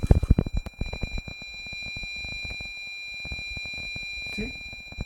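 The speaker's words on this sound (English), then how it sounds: "I will bring my mic closer to the buzzer so you can hear the tone." A passive buzzer driven by an Arduino Uno sounds a steady high electronic tone at 800 Hz continuously, with rhythmic clicking and bursts of noise at the start and a brief bump near the end.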